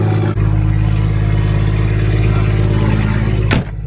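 A small car's engine runs close by with a steady, loud hum and mild revving, holding even throughout, then a short sharp clunk near the end before it carries on.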